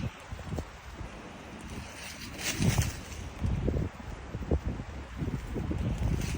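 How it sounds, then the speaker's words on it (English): Wind rushing across an exposed mountaintop, a steady broadband roar with gusty swells, rustling and low buffeting thumps close to the microphone. "y'all hear that wind racing? Up here on top of the mountain."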